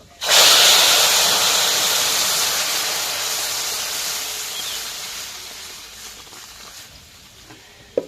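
A loud sizzle bursts up suddenly as lentils hit a hot pan with fried onion and garlic, then slowly fades over several seconds, ending with a faint clink.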